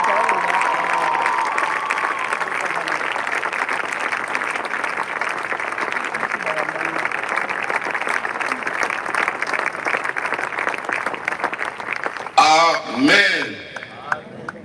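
An audience at a funeral service applauds and cheers in a long, sustained wave of clapping that runs nearly throughout, with a speaker's amplified voice over it and a louder surge of voices near the end.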